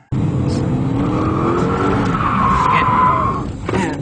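A BMW M3 drifts hard with a loud, sustained tire squeal over a steady engine roar, the skid pitching up as the car holds its slide close by, then easing at the end.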